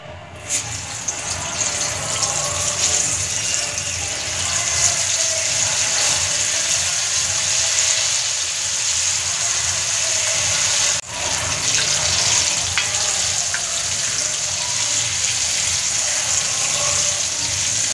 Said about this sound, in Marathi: मंडळी, आता आपण हे तळून घेऊया।